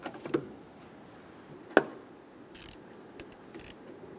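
Ratcheting on the battery terminal of a 2014–2018 Chevrolet Silverado 1500, sparse close metallic clicks and knocks spread over a few seconds with quiet pauses between, no talking.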